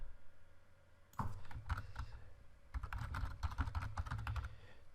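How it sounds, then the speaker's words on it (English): Clattering keystrokes on a computer keyboard come in quick irregular bursts, close and fairly quiet, with a short pause between two runs of typing. "If I can actually type it in."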